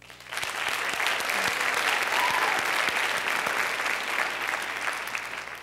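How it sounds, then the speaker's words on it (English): Sustained applause from a theatre audience at a junior pageant's preliminary night, a dense, steady wash of many hands clapping that swells quickly and holds at full volume for several seconds. "For these girls, give yourself a round of applause."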